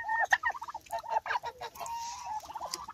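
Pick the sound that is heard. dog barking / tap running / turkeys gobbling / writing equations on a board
turkeys gobbling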